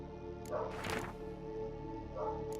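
A dog in The Witcher 3 gives a couple of short barks over a steady low background hum, faint and not too close.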